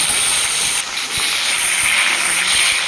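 Curry leaves fry in hot oil with onions for a chanchala curry with Bengal gram, giving off a loud, steady, close sizzling hiss that barely changes.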